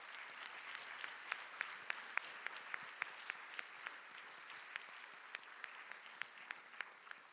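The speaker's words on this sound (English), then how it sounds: "a big round of applause for them" Audience applause for Grade 5 schoolchildren at a school cultural day: steady, dense clapping from a crowd lasting throughout, with sharper individual claps popping out above the wash.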